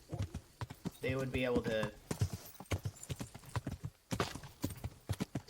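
Horse hooves in the video game Kingdom Come: Deliverance, at night, a steady clip-clop gait running under someone talking over the game sound.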